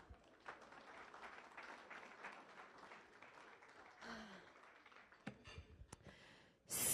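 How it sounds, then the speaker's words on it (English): Applause from members at a Las Vegas Rotary Club meeting, a steady broadband patter of clapping lasting several seconds, moderately distant and fading before a louder burst at the end. "Give yourselves a round of applause."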